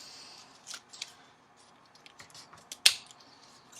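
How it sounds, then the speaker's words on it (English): Scissors snipping through thick colorful paper, cutting it into small squares: a few soft, sparse clicks and crunches with one sharper snip near the end, quiet and close with no talk. "my paper was a little bit too thick for my scissors to get through"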